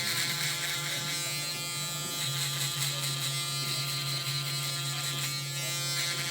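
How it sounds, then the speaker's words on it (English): A steady Babyliss SnapFX electric shaver buzzes continuously at close range while shaving hair during a fade haircut, its motor tone holding even with slight variations as it moves. "now I'm gonna go ahead and take my shaver,"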